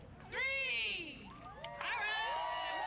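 A crowd cheers and shouts at the ribbon-cutting opening of a new sports complex in Santa Ana, with high excited voices rising and falling in two bursts, fairly distant and continuous.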